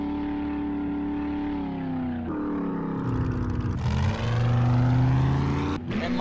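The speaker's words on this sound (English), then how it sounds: "there needs to be just the ability to change how loud the truck is" A truck engine in the survival video game 7 Days to Die drones loudly and steadily, then revs and shifts pitch as it accelerates, heard alone without talk.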